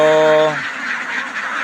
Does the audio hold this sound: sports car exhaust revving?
no